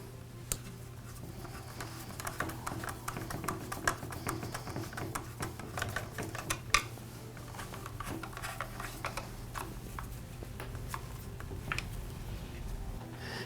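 Screws are driven in to fasten the cover back onto an Echo string trimmer during reassembly after an oil seal repair. Small, close ticks and taps come in an irregular run over a quiet background.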